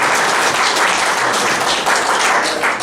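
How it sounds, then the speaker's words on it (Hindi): An audience at a celebration breaks into loud, sustained applause, a dense wash of many hands clapping at once that stays strong throughout. "जोरदार तालियों के बीच में आदरणीय वीरेंद्र जी।"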